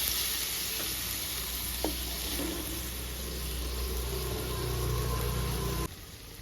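Tomatoes fry in oil in a pan over a medium gas flame for a mango roti chutney, giving a steady, close sizzle with a brief utensil tap, cutting off sharply near the end.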